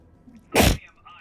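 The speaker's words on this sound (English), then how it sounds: "That sneeze really hurt." A single sharp, explosive sneeze from a character in the game Lego Super Heroes 2 bursts out abruptly and briefly amid quiet background sounds.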